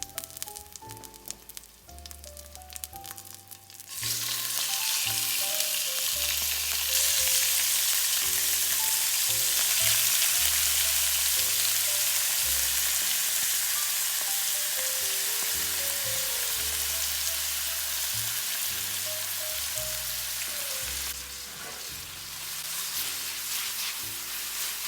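Squid pieces for calamarata napoletana drop into hot oil in a pan that is not non-stick, setting off a loud, steady hiss and crackle that holds for a long stretch, with faint music underneath.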